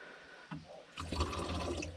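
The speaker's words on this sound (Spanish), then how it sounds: "Y entonces yo lo lleno de agua." Water pours into a container inside a mini camper, a faint trickle that swells into a steady, gurgling fill.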